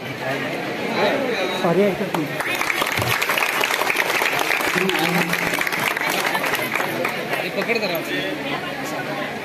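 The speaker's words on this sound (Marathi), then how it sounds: "आपण सर्वांनी जोरदार टाळ्यांचा प्रतिसाद द्यायचा आहे." Guests at a Buddhist village wedding in Konkan break into loud, dense clapping that runs steadily for several seconds, with voices chattering and calling out over it.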